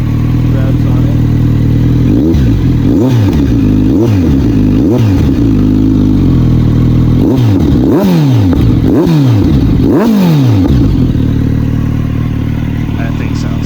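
A 2025 Kawasaki Z900 motorcycle engine idles loudly up close and is blipped through two rapid series of sharp revs, each climbing and falling quickly before settling back to a rough idle.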